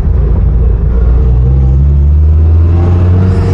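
The engine of a 1971 Hillman Imp Super revs loudly up close, a deep steady rumble rising slightly in pitch, with no talking.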